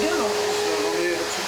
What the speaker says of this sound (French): tu peux passer l'aspirateur dans une demi-heure quoi